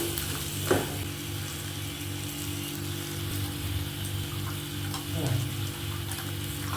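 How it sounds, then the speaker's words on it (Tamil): Crushed garlic and small shallots sauté in a pan for a spicy tamarind kara kuzhambu: a continuous sizzle with occasional spoon scrapes and taps against the pan. "இதையும் நல்லா ஒரு செகண்ட் வதக்கலாம்"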